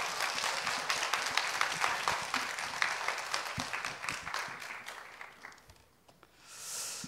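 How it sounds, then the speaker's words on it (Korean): A church congregation claps to welcome a missionary reporting from Germany, a steady broad wash of applause that carries for about six seconds before thinning out, then rising briefly again at the end. "박수로 환영하겠습니다."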